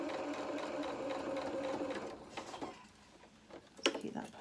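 A sewing machine stitches around a hedgehog doll head, running steadily for about two seconds at close range before stopping, followed by faint handling noises.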